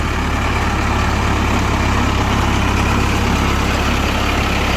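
A tractor engine runs steadily nearby, a loud continuous low rumble heard as if seated on the machine, with no talk.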